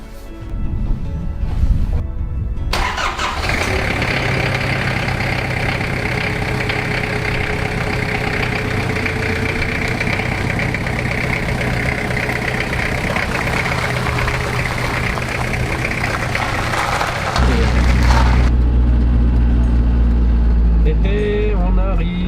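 A civil protection vehicle from Lannion, towing a trailer, starts up and drives steadily, its engine a continuous close rumble that deepens and grows louder toward the end, with voices talking over it.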